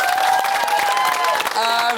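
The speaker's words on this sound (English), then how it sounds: "Give him a round of applause." A television studio audience applauds, with dense clapping and some cheering over a brief stretch, while music tones sound underneath.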